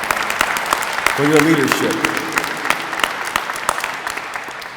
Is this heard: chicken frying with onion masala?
no